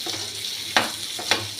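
Asafoetida sizzles in hot oil in a pan as the tempering for a papaya curry, a close, steady frying hiss broken by two brief stirring scrapes.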